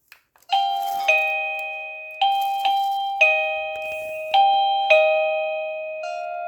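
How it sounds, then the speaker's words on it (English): The indoor chime unit of a Chinese wifi video doorbell rings, giving several loud, clear two-tone ding-dong chimes in quick succession, each note ringing out and fading, after a couple of faint button clicks at the start. "when I will press here, it will be sound inside also on the ding dong"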